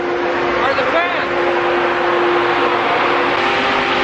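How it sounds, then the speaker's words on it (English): Grain bin aeration fans run beside a grain dryer, a loud, continuous whooshing drone with a steady low hum and a faint whistling tone, close and unbroken throughout. "The noise you hear back here are the fans."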